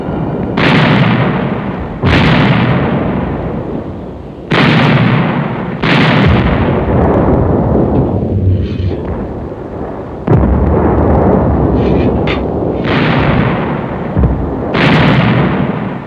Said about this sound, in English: German artillery gave American forward units a hard time for the rest of that day.